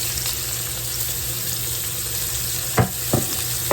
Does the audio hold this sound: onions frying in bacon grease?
yes